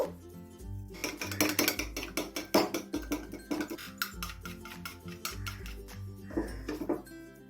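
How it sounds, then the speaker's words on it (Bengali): Eggs and a little salt are whisked in a bowl, giving rapid, busy metallic clinking and scraping against the bowl over steady background music. "দুটো বাটিতেই আমি অল্প অল্প করে নুন দিয়ে ভালো করে ফেটিয়ে নেব"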